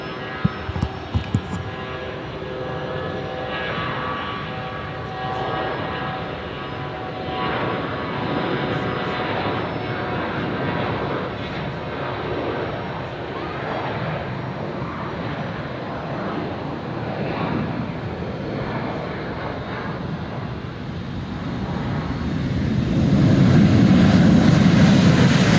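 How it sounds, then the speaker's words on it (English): A Delta airliner arriving at Brisbane on the inaugural flight from Los Angeles lands with a steady, distant jet engine roar that swells louder near the end as it comes down the runway. "we're going to let you hear the noise of the aircraft"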